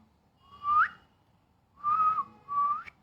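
A person whistles three short rising notes, each swelling and then breaking off, with brief pauses between them, clear and close against near silence.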